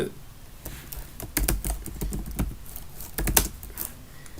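Quick, irregular keystrokes on a computer keyboard as a word is typed into a label field in attendance-management software, close and clear, with brief pauses between bursts of clicks.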